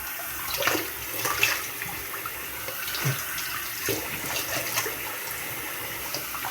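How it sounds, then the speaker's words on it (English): Tap water runs steadily into a bathroom sink while someone rinses soap suds off their face, with faint splashes and small shifts in the flow throughout. "I'm going to rinse my face off a little."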